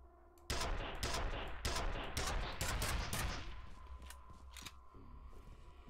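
Enemy gunfire in the shooter game F.E.A.R., a rapid series of sharp bursts and single shots close by, thinning into scattered echoing reports.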